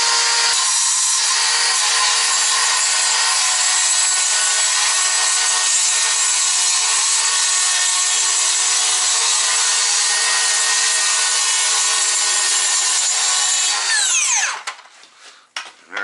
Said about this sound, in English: it's just like it's cutting like drywall or cutting like plywood or something, but there's a lot of little rocks and a lot of dust